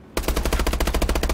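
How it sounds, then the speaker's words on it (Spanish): Rapid machine gun fire in a video game cracks out as a sustained burst of about a dozen loud, evenly spaced shots right after a brief quiet start. "No, tío. Son tiros, son tiros."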